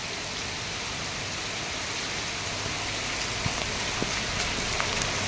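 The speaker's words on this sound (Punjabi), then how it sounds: "ਇਹ ਮੀਂਹ ਆ ਬਹੁਤ ਭਰਮਾ ਮੀਂਹ ਕਿਹਾ ਜਾ ਸਕਦਾ" Heavy rain pouring onto a village street in Jabbowal, a loud, steady broadband hiss with occasional heavier drops and a faint car passing underneath.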